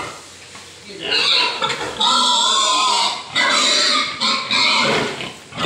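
Sow pig squealing loudly while being caught, repeated shrill bursts close by, with people talking.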